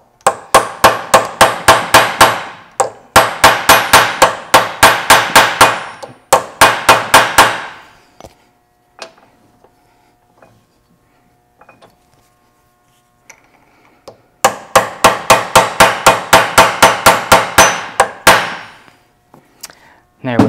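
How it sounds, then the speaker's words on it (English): Hammer striking to stake a nut on a Land Cruiser split-case transfer case: rapid, loud, metallic blows in long steady runs, a quieter pause with a few scattered taps, then another sustained volley, close up. "We'll go ahead and stake that nut as well."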